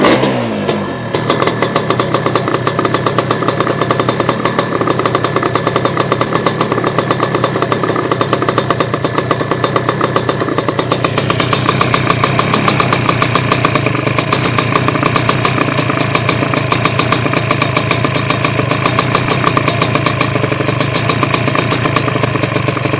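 A Sledgehammer 333 scooter engine fires up on its first start and runs loud and close, with dense rapid two-stroke firing and shifts in pitch as it revs and then settles into a steady idle.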